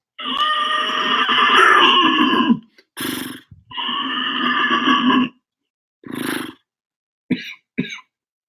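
A man imitates a horse with his voice, a loud nasal whinny of two long quavering bursts separated by short breathy grunts and snorts, ending with a couple of quick puffs.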